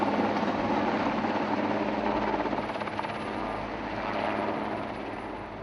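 A firefighting helicopter at a wildfire drones overhead with a steady rotor thrum, loud at first and then slowly fading as it moves away.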